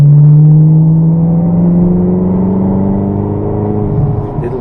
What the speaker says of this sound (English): Gently start to accelerate and accelerate more